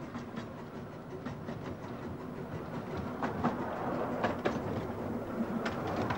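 Train rolling along the rails with a steady rumbling clatter and scattered metallic clicks of wheels over track joints, heard from inside, continuous and moderately loud, growing slightly louder toward the end.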